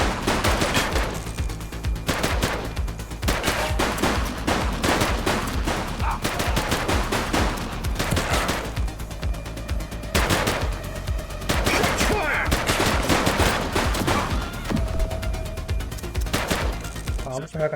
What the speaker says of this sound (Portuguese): We're downtown where police are engaged in a fierce shootout